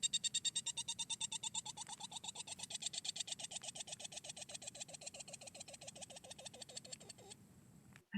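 A small seabird calls from beneath a bush at night, a long rapid series of evenly spaced, chattering pulses that runs for several seconds before stopping abruptly. The sound is faint and there is no talking.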